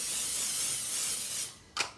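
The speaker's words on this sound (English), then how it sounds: "spray a quick little thing of pixie spray" Pixie spray misted onto a stencil for card making: a sustained close hiss of aerosol for about a second and a half, then a short sharp second burst after a brief pause.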